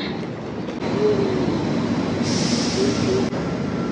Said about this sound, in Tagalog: Sasakay kami ng tram.